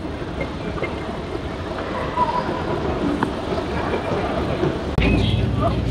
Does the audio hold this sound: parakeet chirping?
no